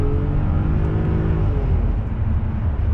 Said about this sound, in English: if you go really high up into the RPMs, I'm gonna go into second here